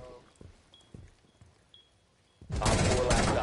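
Gunfire in Rainbow Six Siege: a few soft, spaced thuds like distant shots, then a sudden loud, dense burst of rapid fire that lasts to the end, close and harsh with no talk.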